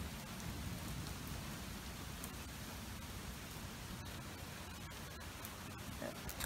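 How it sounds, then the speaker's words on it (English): Steady rain hisses at the start of a tropical storm, a dense, even wash of noise with faint low rumbling underneath, at moderate level and without voices. "The thunder's rolling."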